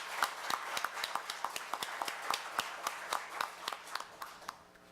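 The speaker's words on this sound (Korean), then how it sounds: "우리 조대엽 원장님한테 큰 박수 한번 보내드렸으면 좋겠습니다." An audience at a Korea University labor-management-government forum claps in a brisk, fairly even burst of many hands, moderately distant and fading toward the end, with no voices over it.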